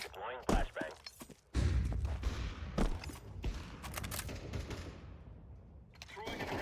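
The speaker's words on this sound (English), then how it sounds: "Deploying flashbang." A flashbang grenade in Counter-Strike 2 goes off as a sudden loud burst with a sharp, shattering crack. Scattered thuds and gunfire-like hits follow, amid other in-game clatter.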